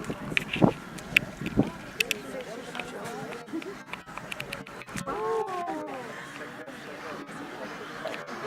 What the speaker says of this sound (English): the noise you hear from the island there, that's from the egrets and the herons.